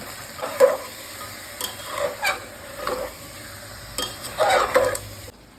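Goat meat frying with spices in a pot, stirred with a spatula in several bursts of scraping and clinking over a soft, continuous sizzle.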